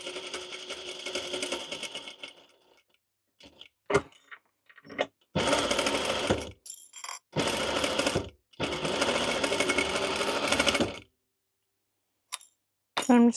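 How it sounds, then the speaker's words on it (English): A sewing machine chain-stitches Halloween pennant banner pieces together, running in several loud sustained bursts separated by short pauses, with faint handling clicks between runs and no talking. "I'm going to be chain stitching them together"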